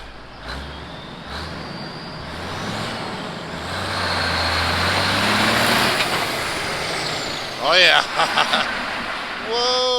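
A Big Cam Cummins-powered pulling truck roars loudly and steadily under load while its tires skid, a heavy diesel drone with rising whine, ending in a few sharp squeals and chirps; voices shout over it.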